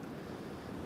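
Gusty wind from Storm Eowyn at Newcastle Airport, a brief, steady roar of wind buffeting the microphone with no voices.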